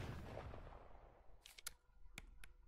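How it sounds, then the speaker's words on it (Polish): In the video game The Forest, a burst of low rumbling blast fades out, then a few sharp, quick gunshots crack one after another, fairly quiet and distant. "A to był akurat przypadkowy strzał."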